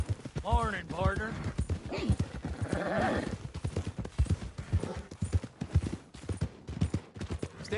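Horse hooves clip-clop steadily in Red Dead Redemption 2, mixed with a whinny and a voice speaking over the riding.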